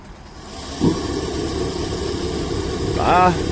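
A diesel engine turns over and settles into a steady low rumble with some hiss, alongside a brief squeal near the end.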